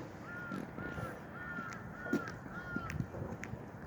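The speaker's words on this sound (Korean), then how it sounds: "까마귀 우는 소리도 들리고요." Crows caw in a series of short, hoarse calls at moderate distance outdoors at a training institute campus in Byeongcheon, Cheonan, on a cold winter day, with faint background noise between the calls.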